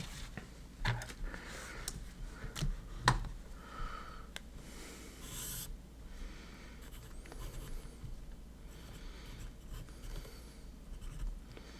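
Pen or pencil writing on paper, a very quiet, close scratching and rubbing with a few light taps, steady for about twelve seconds with soft breathing in the background.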